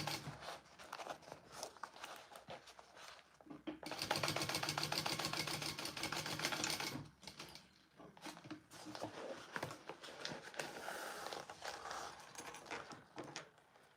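Sewing machine top stitching the exterior side panel of a bag, a faint mechanical whirring run that rises and pauses in bursts, fairly quiet and close, with soft handling noises between.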